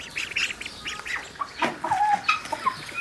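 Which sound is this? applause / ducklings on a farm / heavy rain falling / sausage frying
ducklings on a farm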